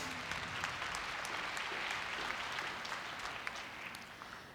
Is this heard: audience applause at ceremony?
yes